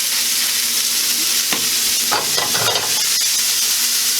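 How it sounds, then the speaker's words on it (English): Sliced onions fry in a pan with salt and black pepper, a steady close sizzle broken by a few scraping stirs in the middle, with no talking. "We're just going to cook these down till they get a little bit soft."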